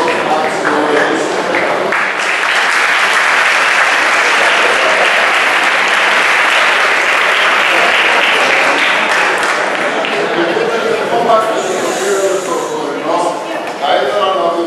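Sustained, dense audience applause fills a hall at a year-end results event for the Agriculture Department of Aristotle University of Thessaloniki, holding steady for about fifteen seconds before thinning slightly near the end.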